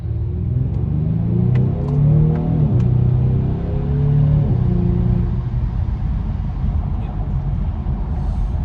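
A Genesis G70 fitted with BMS air intakes cruising, its engine giving a low, steady drone with a couple of gentle swells in pitch before settling into a smooth rumble of road noise.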